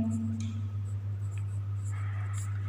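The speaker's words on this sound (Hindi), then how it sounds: "तो यहाँ पे हम लिपि लिखेंगे।" Pen writing on paper during a Hindi grammar lesson, a soft, continuous scratching at close range over a steady low electrical hum.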